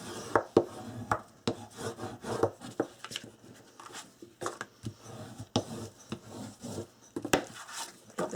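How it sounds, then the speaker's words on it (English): Score tape is burnished flat onto cardstock, heard as close, irregular rubbing and scraping strokes with small taps and knocks on the work surface. "I'm just going to make sure that it's straight and burnish that down."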